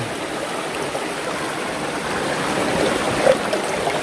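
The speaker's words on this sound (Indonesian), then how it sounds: "Saya kalau dengar suara gemericik air itu bawaannya tenang" A stream of very cold, clear water gurgles in a steady, even rush. The sound is close and continuous and swells slightly toward the end, with no voices.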